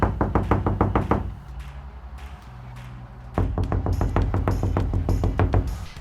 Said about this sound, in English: it makes a little bit of an effect when you knock on the material